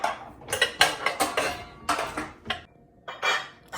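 Metal muffin pans clanking and rattling as they are handled in a bottom kitchen cabinet, a series of close, loud metallic clatters with brief pauses and no voices.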